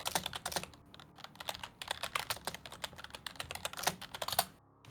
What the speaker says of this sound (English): While Lloyd is typing.